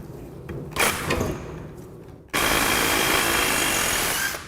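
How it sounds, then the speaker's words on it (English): An electric impact wrench backs out countersunk T30 bolts, a steady loud whirring drone that starts abruptly and runs for about two seconds after a quieter stretch of shorter tool bursts and handling noise. "So we're just going to use our electric impact for that."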